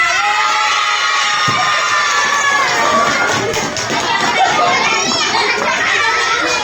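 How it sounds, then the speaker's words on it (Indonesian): Elementary schoolchildren at an educational games event cheer and shout together loudly, a dense continuous crowd roar with scattered clapping and a voice speaking over it. "Tepuk tangan semua."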